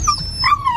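A dog whines and whimpers excitedly in high, wavering yips, close and fairly loud in one short burst, with no talking.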